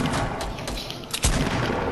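Continuous, busy video game gunfire, with overlapping shots and booms forming a steady wash of noise and a sharper cluster of reports partway through.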